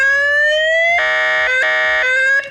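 A loud, close electronic siren on a CFMoto 625 fire-service quad bike wails upward, then switches to rapid pulsing beeps that stop abruptly.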